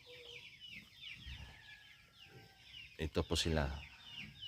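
Heritage chickens, including a mixed-breed Asil and Rhode Island rooster, cluck softly in a farmyard, followed by a louder burst of close clucking and squawking. A person speaks briefly.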